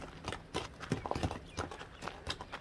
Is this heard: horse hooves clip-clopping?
yes